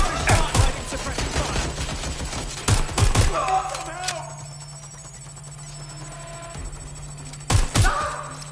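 Suppressed gunfire in GTA, short bursts of muffled shots in a few clusters separated by quieter stretches, close and punchy over a low background hum.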